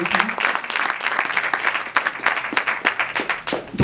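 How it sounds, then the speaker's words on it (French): Audience applause at the closing night of an international film festival, a dense sustained wash of many hands clapping close by, steady through the whole stretch with no voices on top. "on peut l'applaudir très fort et très chaleureusement"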